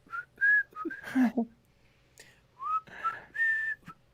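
A person whistles a short tune in several clear phrases with gaps between them, close and fairly loud, with a brief lower vocal sound partway through.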